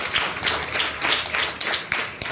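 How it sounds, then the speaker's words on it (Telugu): Scattered audience clapping in an evangelical Christian gathering, several bursts of hand claps rising and falling close by, with no voice over them. "నమ్మిన వాళ్ళు చప్పట్లు కొడుతున్నారు కనపరచండి"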